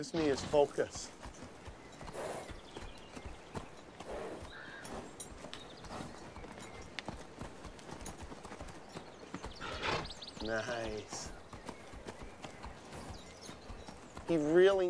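A horse being trained steps about with soft, intermittent hoof clops amid rustling and handling noises, while someone speaks over much of it and faint neighing breaks in briefly.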